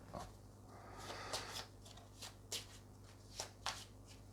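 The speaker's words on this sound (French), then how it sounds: "Et on va remélanger également celui-là" Someone shuffles a deck of game cards for a samurai-themed card game: several quick riffling bursts at close range, each a short crisp flutter with small pauses between, quiet and free of talk.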